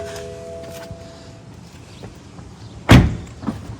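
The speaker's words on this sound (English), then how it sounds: "let me pop the hood real quick" A single sharp thunk as the hood latch of a 2016 BMW M4 is popped, close and brief against faint background noise.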